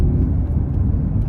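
Cammed 2008 Chevrolet Impala SS with a 3-inch straight pipe exhaust idles with a deep, loud, choppy low rumble, close and continuous, no talking.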